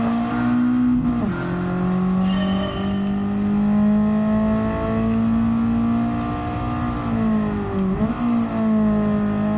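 A Mazda MX-5 engine revs steadily in the Gran Turismo 7 racing game, holding a loud, sustained tone with brief pitch dips around gear changes.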